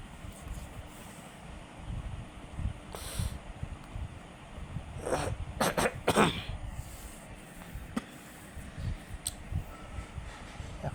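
A person with a cold coughs in a few harsh, clustered bursts in the middle, over a steady low hum in an amplifier repair workshop.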